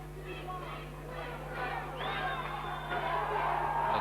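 A boxing arena crowd at a European heavyweight title fight roars and cheers behind a commentator's voice, a dense wash of shouts and whoops that swells louder toward the end.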